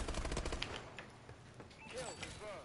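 Hip-fire gunfire in the Call of Duty Advanced Warfare shooter, a quick rapid burst of automatic shots at the start, fairly faint, followed by quieter game sounds and a voice.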